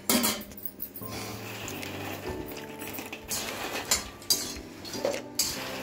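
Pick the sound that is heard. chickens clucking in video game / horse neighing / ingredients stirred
ingredients stirred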